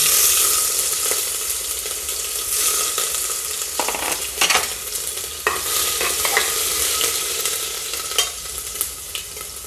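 Mustard seeds, cumin, ginger and garlic frying in hot oil for moong dal khichdi, a close continuous sizzle and crackle with occasional spoon stirs and pops, no talking.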